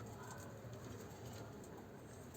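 Faint, soft cooing of kula pigeons under a steady background hiss, low and gentle, with no one speaking.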